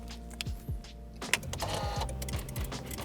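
A weak electric whirring and clicking as a car with a dead battery tries to start, repeating sluggish mechanical sweeps that never catch, close up and fairly quiet.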